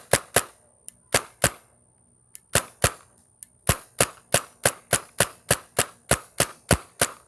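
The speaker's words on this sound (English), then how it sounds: "It's a Tippmann A5 with a jimmied up response trigger." A Tippmann A5 paintball marker with a makeshift response trigger fires sharp, close pops, first in a few uneven bursts, then a rapid, steady string of shots.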